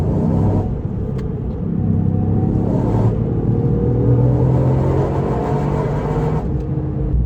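A Toyota GR Yaris accelerates hard, its engine a loud, close, low rumble that climbs in pitch through the gears, broken by brief shift pauses, with no talking.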